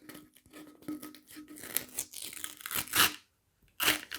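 Beer packaging is torn open by hand with crinkly ripping bursts and crumpling of paper or cardboard, close and intermittent, pausing briefly before a final sharp rip.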